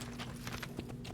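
A horse's hooves clip-clop in a video game, a quick run of quiet, evenly spaced hoofbeats over a faint steady background hum.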